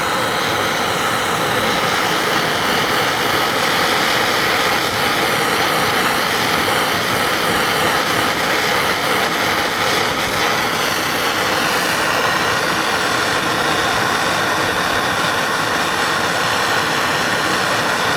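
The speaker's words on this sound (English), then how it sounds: "that's the sound of the propane torch." A propane torch burns with a steady, loud, continuous roar as it heats a seized brake line fitting on a 1976 BMW 2002 during rear subframe repairs, a dense broadband hiss running unbroken throughout.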